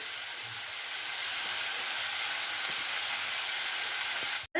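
Chopped onion, green chilli and ginger sizzling in a hot pan, a loud, even hiss held steadily throughout without talking, cutting off abruptly at the end.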